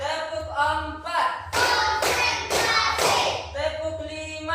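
Hands clapping in a classroom lesson during a counted clapping routine, several bursts of claps in a rhythmic sequence with a voice counting between them.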